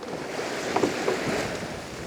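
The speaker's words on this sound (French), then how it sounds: "il y a plus de vent que prévu" Wind rushing steadily over open sea aboard a sailboat off the Breton coast near Pointe du Van, a continuous airy roar with faint water and hull noise, no voices.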